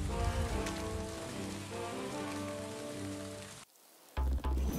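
Steady rain pours down in a swamp in the video game Valheim, a dense continuous hiss that cuts out abruptly near the end, followed by a couple of dull thumps.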